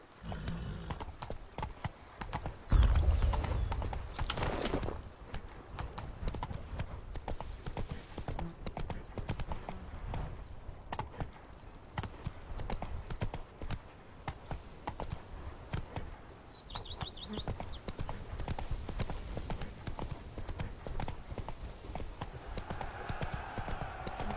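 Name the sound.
horse hooves clip-clopping, Roach in The Witcher 3 video game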